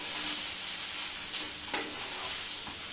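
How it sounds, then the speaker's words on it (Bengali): Fried rice being stirred and mixed in a pan, with a steady sizzling hiss throughout and a couple of brief scraping stirs, close and moderately loud with no talk. "এই যে এবার নেড়ে চেড়ে নেবো, সব মিক্স করে নিচ্ছি"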